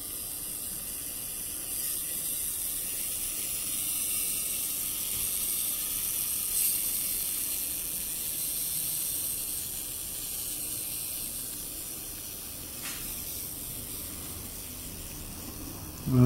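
A model crane slowly rotates on geared motors, giving a faint continuous whirring and ticking drone with a steady hiss, fairly quiet throughout.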